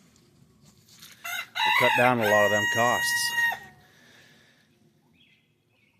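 A rooster on a small farm with a flock of chickens crows loudly once, preceded by a short cluck, with someone talking faintly before and after the call.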